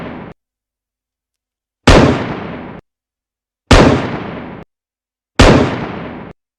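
Gunshots from a sniper rifle in a Unity zombie shooter game: three loud, identical booming blasts, each with a short decaying tail, spaced about two seconds apart after a brief earlier burst.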